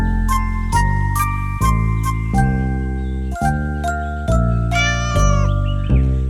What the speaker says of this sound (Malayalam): ഒടുവിൽ അയാളൊരു പൂച്ചയെ വാങ്ങി.